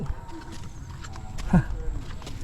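Cattle walking along a farm track beside rice fields, their hooves thudding on the ground in a soft, irregular patter at close range, with wind and ambient outdoor noise.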